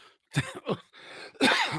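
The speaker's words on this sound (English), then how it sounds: "I'm coughing." A few harsh coughs in quick succession, close and fairly loud, with a brief throaty pause between bursts.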